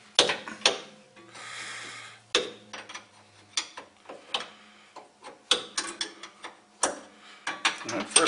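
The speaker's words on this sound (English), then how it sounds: "Takes a half inch wrench. Take this off." Half inch wrench loosening bolts on a Frantom split nut, heard as a string of close metallic clicks and ratcheting ticks in an irregular rhythm, with a short scraping stretch early on and no talk.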